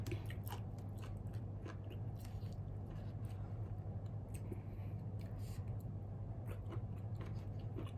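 Someone eating a spicy boneless chicken feet salad with squid: close, rapid crunchy bites and wet chewing repeat steadily over a constant low hum.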